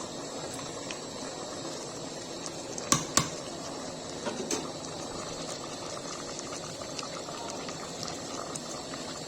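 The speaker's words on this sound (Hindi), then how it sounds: "देखिए गाइस सब भूंज रहा है।" Chicken with tomato and spices frying in a pan on a home stove, a steady soft sizzle and bubbling hiss throughout with a couple of clinks of a utensil, no talking.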